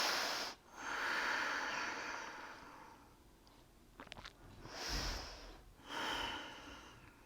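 Slow, close breathing during a seated yoga twist, with long airy inhales and exhales repeating several times and a short nasal snort-like exhale near the middle.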